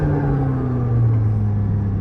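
A Porsche GT3 engine roars through its roof scoop from inside the cabin, a loud, steady low drone with strong engine harmonics held throughout.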